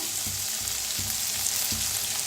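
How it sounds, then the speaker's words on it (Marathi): Tomatoes and other vegetables roast together in a pan with a continuous bright sizzle, broken by three soft stirring knocks at a steady pace. "छान दोन्ही मिळून भाजायचं"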